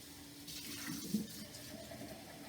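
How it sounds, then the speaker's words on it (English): Tap water runs steadily into a sink to rinse yogurt out of a dirty glass, a soft continuous splash and hiss close by with a slight surge midway, no talking. "So I'm gonna turn on the water and get all that extra yogurt washed out of my glass."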